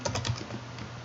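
Quick, light clicks of keys on a computer keyboard while code in C# is typed, close and soft, in a short burst that thins to faint taps over quiet background noise.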